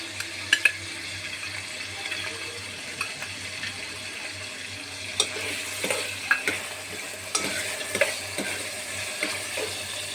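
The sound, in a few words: ginger-garlic paste, green chillies, whole spices frying in pan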